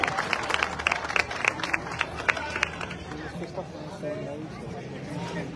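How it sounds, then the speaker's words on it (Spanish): Audience at a political campaign rally for a mayoral candidate applauding, with separate sharp claps up front that thin into a steady patter mixed with crowd murmur and voices. "Un aplauso."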